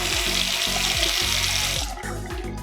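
Water runs from a faucet into a newly built vanity sink made of 2x4s, a steady close splashing rush over a rhythmic low clunking pulse from the plumbing, easing off near the end.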